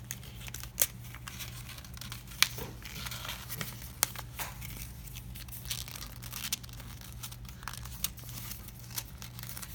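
Paper is folded and tucked into the pocket of a handmade paper wallet, with soft crinkling and scattered crisp rustles and snaps, close by, with no talking.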